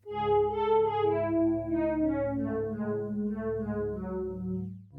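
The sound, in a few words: Arturia DX7 synth chorus pad with two-voice unison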